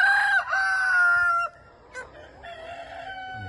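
A Light Sussex rooster crows loudly and close, a long drawn-out call, followed by softer clucking and faint background noise.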